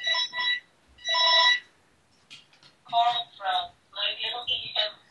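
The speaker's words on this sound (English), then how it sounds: "Sorry, the phone's ringing." A telephone ringing in short repeated bursts, two clear rings followed by more, with a person talking over the later rings.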